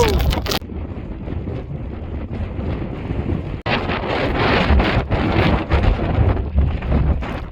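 Strong wind roars across the summit of Ben Lomond in the Scottish Highlands, buffeting the microphone with a loud, continuous rumble and gusty surges that carry on without pause.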